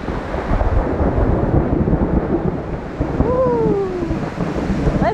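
Thunder rumbles low and heavy through a rainstorm on a forest trail, rolling under a steady wash of rain and wind buffeting, with a faint whistling tone sliding down partway through.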